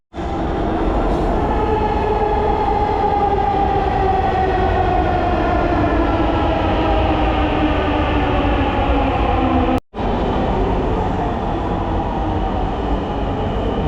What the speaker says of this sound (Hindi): ये आ गई जी ट्रेन